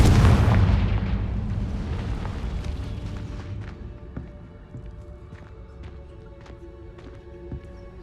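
A loud Confringo blasting spell explosion in Hogwarts Legacy, a powerful boom at the start that decays slowly into rumbling debris with scattered small cracks.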